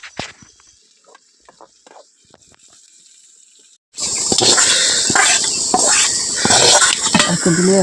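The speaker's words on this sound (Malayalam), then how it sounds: "ചെറിയ ഉള്ളിയും ചുവന്ന മുളകും കറിവേപ്പിലയും ഇട്ട് വയറ്റി എടുത്തതിന് ശേഷം നമ്മൾ വേവിച്ചെടുത്ത ചക്കയിലേക്ക് ഒഴിച്ചു കൊടുക്കുകയാണ്" Hot shallot, red chilli and curry leaf tempering poured onto cooked jackfruit, quiet small clinks at first, then a sudden loud continuous sizzling hiss close up that persists to the end.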